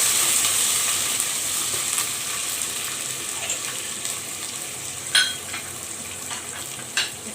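Onions with ginger-garlic paste frying in a pan, a steady close sizzle throughout with a couple of sharper clinks or spatters near the end, no talking.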